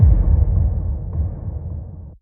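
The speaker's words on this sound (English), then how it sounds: "to finish this drum part section of the verse, I have this low impact" A low impact effect from the drum section of a melodic dubstep remix hits as a heavy, rumbling bass-weighted boom that rolls on for about two seconds and cuts off abruptly, with no voices.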